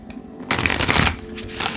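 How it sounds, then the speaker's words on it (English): Tarot cards riffled and shuffled by hand, a short quiet pause followed by a dense, busy burst of papery card flutter that runs close and steady to the end. "Let me shuffle this one more time."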